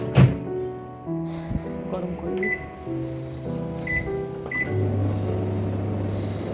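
A microwave oven warms leftover food, a steady low electric hum running throughout with a few short beeps scattered near the middle and end.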